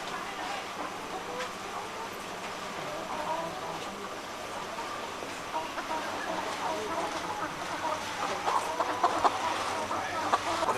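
Laying hens at a school farm cluck and murmur at moderate distance, a soft busy flock chatter that grows a little louder toward the end.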